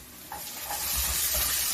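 Vegetables tossed into a pan of softened frying onions for vegetable fried rice, with a steady sizzling hiss and low scraping stir strokes close by, no talking.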